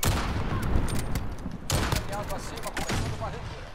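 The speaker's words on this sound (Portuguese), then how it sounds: "Todo mundo atirando em mim, o cara da esquerda e o cara da direita ali" Gunfire in Call of Duty: Modern Warfare, dense overlapping bursts of automatic fire that fill the whole stretch, loud and continuous with a brief gap near the middle.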